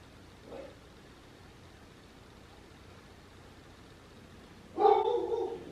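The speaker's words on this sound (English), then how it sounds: "I apologize, Louie is barking." A dog barks twice indoors, a faint short bark first and then a louder, longer one a few seconds later, against a quiet room hum.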